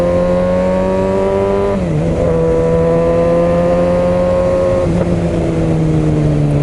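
Kawasaki ZX6R sport motorcycle ridden on a morning commute, its engine note loud and steady with a drop in pitch near two seconds and another shift near five, as if changing gear, with wind rush throughout.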